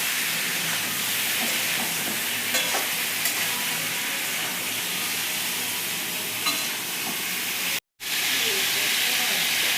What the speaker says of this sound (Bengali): পটলটা যতক্ষণ ভাজাচ্ছে